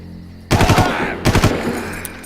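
Gunfire from the video game Far Cry comes as two loud, close bursts of rapid automatic shots with a short gap between them, and no talking over it.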